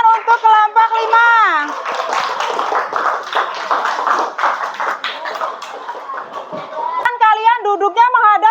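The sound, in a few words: classroom applause for group 5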